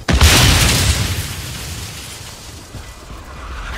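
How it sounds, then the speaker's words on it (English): A precision airstrike explodes in Call of Duty Warzone with a loud, close blast at the start, and a long rumbling boom decays slowly over several seconds. "Friendly precision airstrike inbound."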